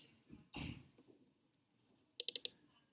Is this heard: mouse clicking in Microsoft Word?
yes